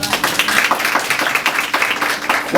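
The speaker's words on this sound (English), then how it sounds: "Give yourselves a round of applause." Audience at a Ward 2 debate applauding, a short burst of close, lively clapping with uneven bursts throughout.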